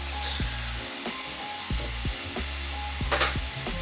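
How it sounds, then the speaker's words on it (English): Onion and garlic sauté in a hot pan with a steady, close sizzle, broken every second or so by the scrape of stirring. No one speaks. "They just have to wait until the onion and garlic are soft. So we'll just continuously saute that."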